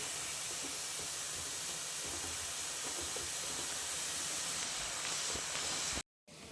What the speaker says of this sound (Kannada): ಆರೆಂಜ್ ಇರೋದು ಎಲ್ಲ ಅದು ಹಸಿ ವಾಸನೆ ಹೋಗೋವರೆಗೂ ನಾವು ಹಿಂಗೆ ಫ್ರೈ ಮಾಡ್ಕೊಳ್ಬೇಕು ತುಪ್ಪದಲ್ಲಿ